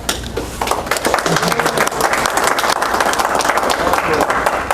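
Applause from the group at a summer aikido seminar, a steady, dense burst of many hands clapping that fills the room throughout, with voices mixed in.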